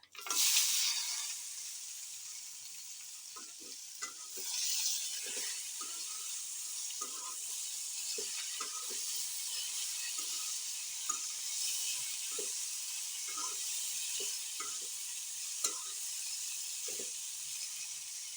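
Pieces of elephant apple (chalta) frying for a pickle in a pan, giving a constant bright hiss with soft stirring knocks spaced through it, close and fairly quiet. No speech.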